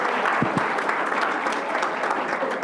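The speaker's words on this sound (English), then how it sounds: "Let's give her a round of applause." Steady applause from the audience at a school board business meeting, a dense continuous wash of clapping that holds at an even level throughout, with a couple of louder claps near the start.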